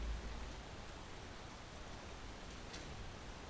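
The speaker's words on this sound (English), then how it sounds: "At least he left the soothing sound of the rain on for us" Steady ambient rain sound plays quietly and continuously in the background of a Space Engineers live stream, a soft even wash of falling rain with no voices.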